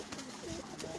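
Pigeons coo softly in a brief, low burst, faint and close, with no talk.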